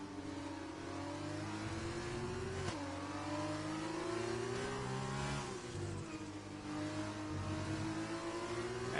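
An F2 race car engine in a video game racing league at Belgium drones at high revs with a steady whine. The pitch wavers and briefly dips as the throttle eases, and the sound stays moderately loud and continuous.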